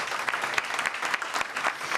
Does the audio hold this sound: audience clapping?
yes